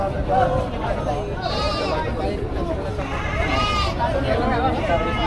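At a livestock auction in Padre Garcia, Batangas, goats bleat several times, moderately loud and wavering, amid a continuous babble of people talking.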